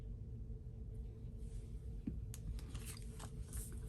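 Scissors snip through layered cardstock during card making, a few quiet cuts with crisp clicks in the second half over a low steady background hum, close to the microphone.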